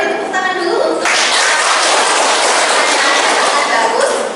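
Audience applause at a university teaching session, a dense, steady burst of clapping from many hands that starts abruptly after a brief spoken phrase and continues loud and unbroken to the end.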